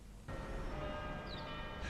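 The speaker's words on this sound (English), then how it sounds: "The Octagon bells coincidentally rang this morning" The Octagon church bells in Dunedin ring out in a broad, washy peal that swells in after a brief quiet moment and carries on steadily, fairly distant and soft, with no voices.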